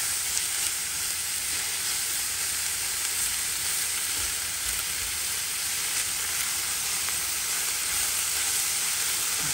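Mushrooms fry in butter in a pan, giving a dense, even, loud sizzle and hiss that holds steady throughout, with faint stirring beneath.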